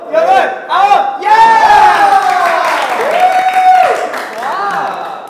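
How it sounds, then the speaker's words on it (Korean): Applause, cheering and whoops on a Korean variety game show, a loud crowd-like burst with high excited shouts layered over clapping, mixed with voices calling out. "아, 이건 그냥 박수 쳐주는 거 같나 봐."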